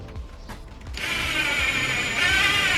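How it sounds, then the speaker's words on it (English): A power drill bores screw holes into plastic while upper cabinet frames go into a camper van conversion; faint handling knocks come first, then a steady, loud whirring motor runs without pause to the end. "I'm just drilling holes for the screws to go into, and it's just going into the plastic here"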